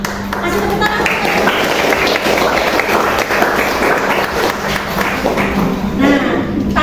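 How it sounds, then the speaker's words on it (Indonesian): A classroom of students claps for a classmate who has just recited a poem, a dense, continuous round of applause lasting several seconds. "Kasih tepuk tangan."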